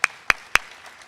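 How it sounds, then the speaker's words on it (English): At a graduation award ceremony, three crisp, evenly spaced hand claps ring out close by, then quickly fade to a faint room tail. "big applause"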